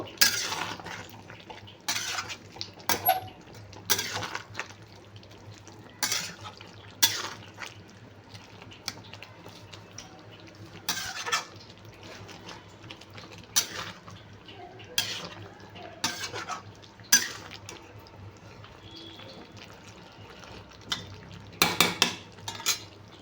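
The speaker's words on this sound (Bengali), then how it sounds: "এটাকে আমি আবার ভালো করে মিক্স করে নেব।" A spoon scrapes and clinks against a pan as a soybean mixture with garam masala is stirred, producing repeated short metallic knocks at an uneven rhythm over a low background hum, close and fairly quiet, with no talking.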